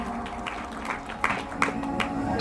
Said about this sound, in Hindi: ताली बजाओ, लड़की हुई है